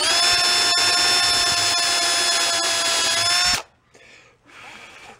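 A power tool drills or grinds into the engine flange of a trashed Rupp mini bike, a loud steady whine with strong harmonics that cuts off abruptly after about three and a half seconds, followed by two brief fainter bursts.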